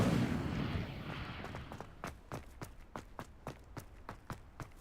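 In the Hogwarts Legacy video game, the Incendio fire spell goes off as an initial roaring whoosh of fire that fades, then a steady series of evenly spaced soft thuds like footsteps follows, all fairly faint.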